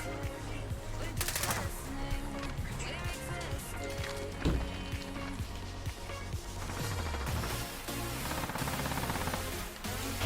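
Rapid submachine gun fire from an MP5 in a first-person shooter video game crackles in dense bursts amid explosions and game effects, with a player talking over the action.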